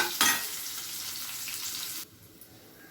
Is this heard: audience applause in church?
no